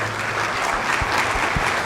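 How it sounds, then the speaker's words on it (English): An audience at a Lawrence County School System event applauds in a steady wash of clapping, fairly even and moderately loud, with a few low thumps underneath. "So give them a round of applause,"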